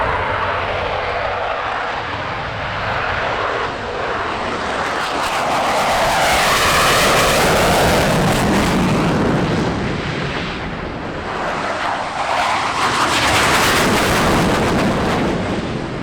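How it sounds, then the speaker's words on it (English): F-15C and D Eagle fighter jets of the Oregon Air National Guard roar past at an airshow, a loud, sustained engine rumble that swells and fades twice in a long pass. "Jet noise came courtesy of an F-15C and D Eagle from the 114th Fighter Wing of the Oregon Air National Guard."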